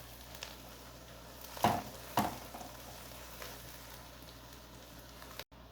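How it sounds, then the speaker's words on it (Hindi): Onions frying with ginger and garlic for biryani, a soft steady sizzle with a couple of louder stirring scrapes partway through. "ये आप देख सकते हैं अब हमारी प्याज जो है वो ब्राउन होना शुरू हो गई है"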